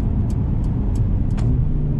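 A 2020 Mercedes-AMG CLA 35 sedan with all-wheel drive accelerates, its engine a loud, close, steady low rumble heard from inside the car with a few faint ticks over it.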